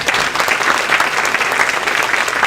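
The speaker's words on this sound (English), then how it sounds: "Can we give everyone a round of applause?" Audience applause in a room at a school district State of the District event, a dense steady wash of many hands clapping together, loud and close, with no talk over it.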